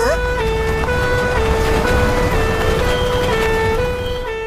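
Fire engine siren in the animated cartoon Upin & Ipin, a loud, close, steady wailing tone that shifts pitch in stepped cycles and runs unbroken over faint background rumble.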